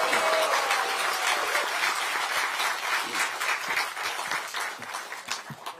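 Steady applause and cheering from a party gathering welcoming Democratic Party leader Lee Jae-myung to an emergency joint meeting of regional committee chairs and lawmakers, a dense, continuous crowd clapping that slowly thins out.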